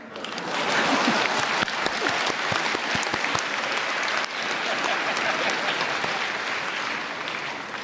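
A lecture audience applauding, dense, steady clapping from a large crowd that stays loud throughout with a brief dip midway.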